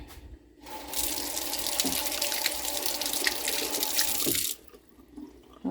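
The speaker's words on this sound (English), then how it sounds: "Since I cracked this egg already, I'm just gonna rinse it off." Running tap water splashes steadily while a cracked egg is rinsed under it, a close hissing flow lasting a few seconds with faint clinks before it stops.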